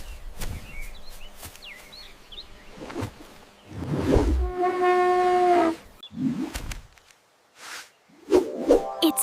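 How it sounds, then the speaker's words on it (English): An elephant gives a loud, brassy trumpet blast held for about two seconds amid rumbling and scattered rustling, with another rising trumpet call starting at the very end. "It's an elephant."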